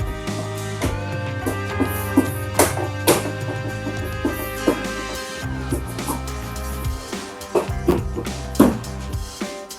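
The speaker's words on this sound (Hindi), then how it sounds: "अब ये हल्की हल्की आवाज़ जो मैं इसके ऊपर पंच कर रहा हूँ वो बस उसी की आवाज़ है" Repeated light taps on the upper fuel tank cover of an Apache 160 4V motorcycle: a series of sharp knocks at uneven intervals, set against a steady tonal hum.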